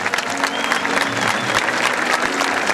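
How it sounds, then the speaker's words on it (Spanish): A gala audience breaks into loud, sustained applause, a dense continuous clapping from a large crowd filling the room, with faint voices mixed underneath. "Yo les voy a pedir el primer aplauso fuerte y emotivo de la noche de todos los tequesteros aquí presentes"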